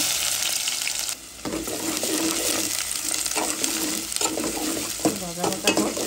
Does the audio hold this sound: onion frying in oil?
yes